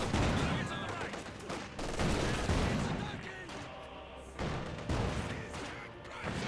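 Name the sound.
gunfire from T-70 and combat engineers in Company of Heroes 2 video game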